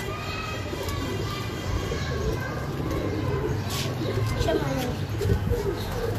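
Racing pigeons in Karachi coo in soft repeated bursts close by, a murmuring flock sound over steady background noise, with someone talking in the background.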